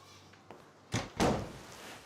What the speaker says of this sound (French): Fermez la porte.